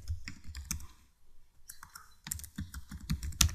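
Rapid keystrokes on a computer keyboard while an address is typed in, clustered clicks in short bursts with brief pauses, close and fairly quiet, no talking.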